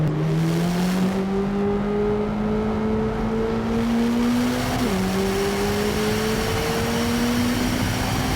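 A 2025 Corvette ZR1 pulls hard on the Daytona track, its engine drone climbing steadily in pitch, dipping briefly at a shift around the middle, then rising again, loud and continuous from inside the car.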